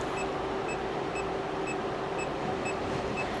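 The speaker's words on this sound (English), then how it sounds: "oh, what's beeping? Oh, that's the meter." A multimeter gives short electronic beeps at a steady rhythm, about twice per second, over a constant low background hum, while checking a Kenworth T-880 truck's air conditioning fault.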